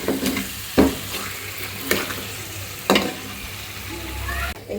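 Rohu fish head sautéed in a pan gives a steady sizzle and frying hiss, broken by several sharp scraping stirs of a spatula against the pan, close and moderately loud.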